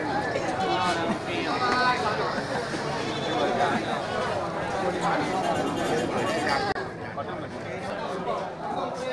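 Bandot goats and Garut sheep bleat in a crowded livestock pen at a market for sacrificial animals. Scattered bleats are heard under continuous close talking and background crowd chatter.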